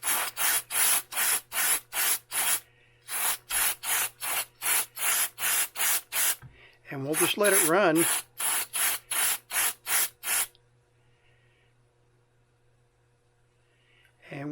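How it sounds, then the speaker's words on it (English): Contact cleaner is sprayed into a Zenith X519 clock radio in rapid, evenly spaced short hisses, a longer burst partway through, then quiet apart from a low hum, with a brief spoken line mixed in. "What we'll do is spray some contact cleaner in there."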